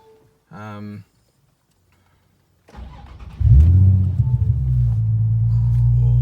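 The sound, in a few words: Nissan 350Z engine cold start and revving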